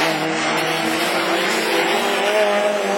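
A division 4 rallycross race car at Lessay fires up and holds a loud, close, steady engine drone with a tonal whine, with no clear speech over it.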